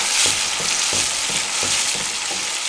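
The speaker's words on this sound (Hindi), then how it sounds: "अब 3 से 4 मिनट इनको अच्छे से भून लें।" Vegetables with tomatoes sizzle and fry steadily in a pan for vegetable biryani, a continuous loud crackle broken by soft rhythmic stirring scrapes, heard alone without any talking.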